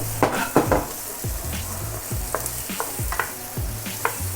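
Pork tossed in a pan with garlic and onions, a busy sizzle with repeated scraping and stirring strokes at an irregular rhythm, close and moderately loud.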